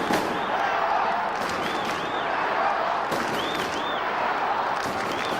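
Crowd at Football Park during a 2001 AFL match between Port Adelaide and Collingwood, a steady loud roar of spectators with some shouts rising above it. Commentators talk over the noise.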